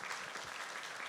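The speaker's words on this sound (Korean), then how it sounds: "우리 인사할 때 같이 박수로 환영하십시다." Brief, steady applause fills a church service as the congregation welcomes newly introduced members, a dense even patter of many hands at moderate level.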